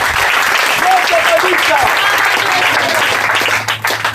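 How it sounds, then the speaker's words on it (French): A church congregation claps loudly for Jesus Christ, dense sustained applause filling the hall at close range before tapering off near the end. "Acclamez le Seigneur Jésus-Christ"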